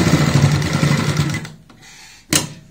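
A sewing machine stitching a zipper box bag runs fast and close for about a second and a half, then stops, followed by a quiet pause and one short burst of noise.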